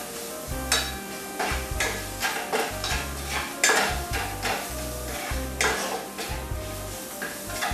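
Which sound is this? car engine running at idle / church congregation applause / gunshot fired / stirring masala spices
stirring masala spices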